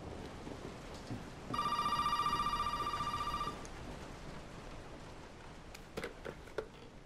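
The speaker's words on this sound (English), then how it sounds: "Is that a phone?" A telephone rings in the Resident Evil 7 video game, one steady ringing burst of about two seconds over dark, rumbling ambient game noise, with no speech.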